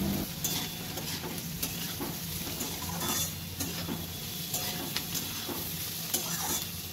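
Fried soybean mixture with salt being stirred in a pan, a steady close sizzle and frying hiss with scraping stirs throughout, no voices.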